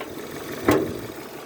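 A Renault Megane 2 engine with a knocking fault idles with the hood open, giving a steady, fairly quiet low rumble broken by one brief louder burst partway through.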